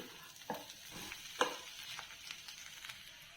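Fish eggs frying with chili powder get stirred in a pan, giving soft scraping strokes and a few sharper clinks over a faint, steady sizzle, quiet and close.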